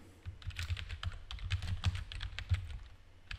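Quick, continuous typing on a computer keyboard, a dense patter of close key clicks with a few heavier strikes, with no one speaking.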